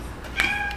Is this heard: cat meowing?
yes